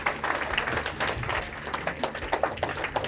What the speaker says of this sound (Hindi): Zainab के लिए जोर से तालियां बजाओ.